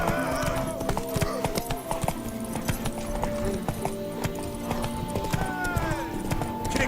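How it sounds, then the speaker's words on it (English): Horse hooves clip-clop steadily at close range in the Velen region of The Witcher, with voices and a brief whinny mixed in. "Want that horse, don't ya?"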